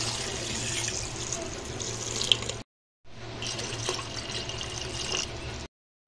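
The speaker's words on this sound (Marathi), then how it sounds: "याच्यामध्ये आपण 2 तांबे पाणी टाकूया" Water pours into a toor dal khichdi mixture in a pressure cooker as two steady, splashing streams, each running a few seconds and ending abruptly with short silences between.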